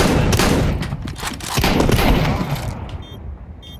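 AK rifle fire in a first-person shooter game, a loud close burst of rapid automatic shots that stops after about three seconds, with a faint beeping after.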